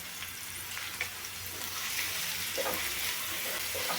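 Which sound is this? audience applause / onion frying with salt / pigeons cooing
onion frying with salt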